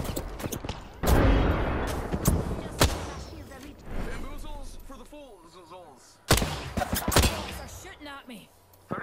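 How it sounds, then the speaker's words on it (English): Grenade blasts in the Apex Legends video game land as two loud, sharp bursts among rattling gunfire, while players talk excitedly over the fight. "Grenade!"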